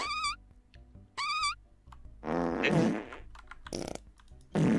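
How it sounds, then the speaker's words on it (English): Synthetic fart sound effects played from a phone's voice assistant, several short bursts separated by electronic tones and brief chimes, fairly loud and close. "Hey Siri, fart for me."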